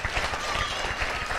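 An audience at a motivational speech event claps in a dense, steady wash of applause that fills the short moment evenly, with a faint murmur of voices underneath.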